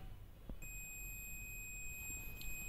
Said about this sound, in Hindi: कंटिन्यूटी चेक करने से इसमें बीप साउंड आएगा